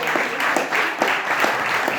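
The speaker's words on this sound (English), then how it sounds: "You can give her a round of applause." Applause for a guest staying at a temple, a steady patter of many hands clapping close by for about two seconds, filling the space on its own with no talk over it.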